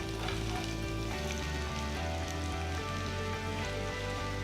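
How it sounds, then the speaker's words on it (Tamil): Crushed garlic frying in masala over a low flame gives a steady, even sizzle that holds without pause, with a light clink of stirring here and there. "பூண்டு சேர்த்ததும் அஞ்சு நிமிஷத்துக்கு லோ ஃப்ளேம்லேயே வறுத்துக்கோங்க"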